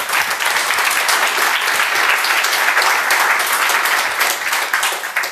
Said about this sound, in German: Applaus dafür bitte.